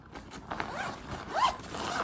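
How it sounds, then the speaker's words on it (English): A zipper on a travel bag is pulled in a few short scratchy strokes, close and fairly quiet, with no talking. "It has a zipper."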